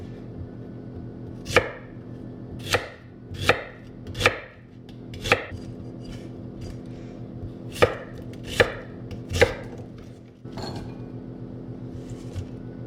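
A knife chops a red onion on a cutting board in a home kitchen: about ten sharp, close, evenly spaced chops with short pauses between them, no talking.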